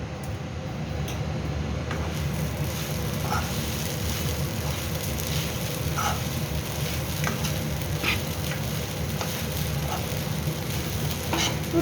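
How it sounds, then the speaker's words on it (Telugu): A spoon scrapes and stirs sabudana khichdi with peanut powder in a pan, giving a close, steady scraping rhythm over a soft continuous sizzle. "మిగిలినది పల్లి పొడిని మనము దీని లోపలికి వేసేసుకొని మిక్స్ చేయాలి"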